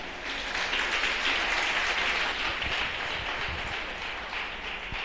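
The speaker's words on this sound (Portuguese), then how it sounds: "Você pode aplaudir o eterno?" Church congregation applauding during a sermon, a steady broad wash of clapping across the room that holds fairly even for about five seconds, moderately loud and without speech over it.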